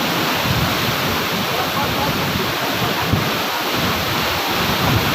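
Steady, dense roar of rushing water filling the whole clip, loud and continuous from a nearby village waterfall in Arale, with no talking.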